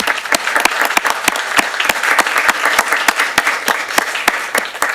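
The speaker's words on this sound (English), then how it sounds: "Let's give a big round of applause to our graduates." Audience at a Horsham Township council meeting applauding graduates: steady, dense clapping from a roomful of people that holds evenly throughout, with no voices over it.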